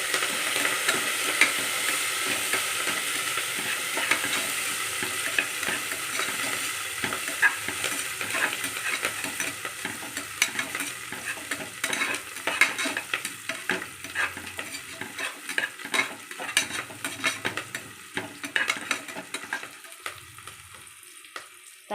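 A spoon stirs mint leaves, coriander and curry leaves sizzling in hot oil in a pan for tomato rice, with steady scraping and frying crackle throughout and no talking.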